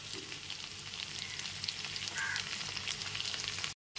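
Malabar spinach stalks fry in a pan with hilsa fish head over a medium flame, a steady close sizzle with faint crackles, cutting to brief silence just before the end.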